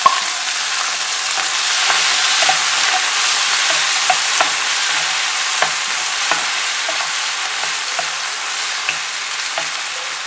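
Onions, ginger, garlic and dried tomatoes sizzle steadily in a pan for spicy tomato dosa, with scattered soft clicks and scrapes of stirring over the constant frying hiss; no talking.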